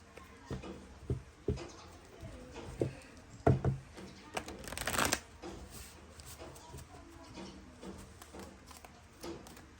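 A tarot card deck handled and shuffled close by, with soft irregular riffles, taps and card slides, a brief louder flurry in the middle, and quiet room tone between.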